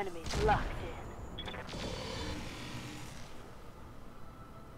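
Bursts of light machine gun fire from a mech in a video game, sharp reports and impacts near the start and around the second mark, fading into a quieter tail.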